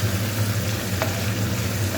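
Curry leaves dropped into a hot oil tempering with dried red chillies for pongal, a continuous close crackling sizzle with a low steady hum beneath, no voices.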